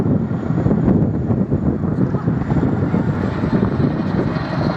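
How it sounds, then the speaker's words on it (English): A Chinook helicopter flying a spiral descent at an air display at Culdrose, its engines and rotors a constant, loud, rumbling roar that stays level throughout, roughened by wind buffeting on the microphone. "he's going to get the nose down and perform a spiral descent"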